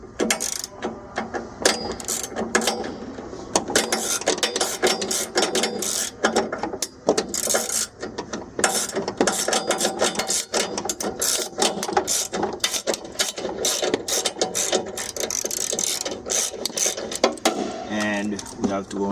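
A ratchet works bolts loose from the window regulator motor inside the front door of a 2007 BMW 750Li, giving dense, rapid clicking bursts close to the mic with short pauses and faint talk now and then.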